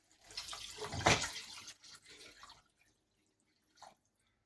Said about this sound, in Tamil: தண்ணி ஊற்றிக்கலாம்.